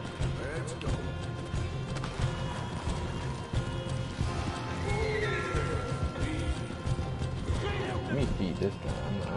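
A horse in the Red Dead Redemption 2 video game whinnies loudly and gallops, hooves clip-clopping in a fast rhythm under game music and effects, with a neigh rising partway through.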